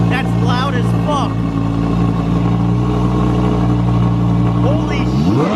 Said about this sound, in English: I'm just gonna start this R8 up right now.